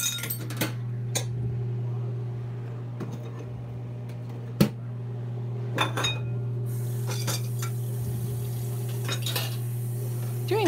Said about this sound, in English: Doing the dishes is really not what I feel like doing.